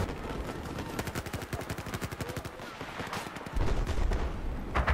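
Rapid automatic gunfire in Battlefield 4, a sustained burst of close, loud shots in quick succession followed by a heavier blast and more scattered fire.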